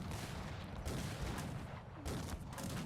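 Dragoon cavalry volley-fire muskets in the strategy game Cossacks 3. A dense, continuous crackle of overlapping gunshots forms a rolling fusillade, with slightly louder bursts near the start and middle.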